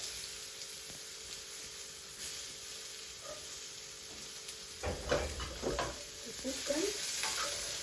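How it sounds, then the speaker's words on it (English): Onion going into hot oil for Italian-style sausage noodles, a quiet steady hiss at first, then a sudden louder burst of sizzling and crackling spits as it hits the pan, continuing close for the last few seconds. "So we're just going to add in our onion. Remember, the oil is hot."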